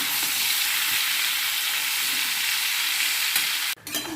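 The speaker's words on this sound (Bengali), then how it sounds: "তো চলো আস্তে আস্তে ভাজি, গলে যাক" Mangoes frying slowly in a pan in a home kitchen, giving a steady, close broadband sizzle that runs unbroken for about four seconds before a sharp clatter near the end, with no talking.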